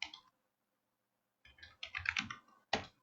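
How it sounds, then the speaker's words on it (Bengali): Computer keyboard typing, a short tap, a pause, then a cluster of quick clattering keystrokes ending in a firmer single press like an enter key, close and clear with no talking. "দেন হচ্ছে আমি এন্টার প্রেস করবো"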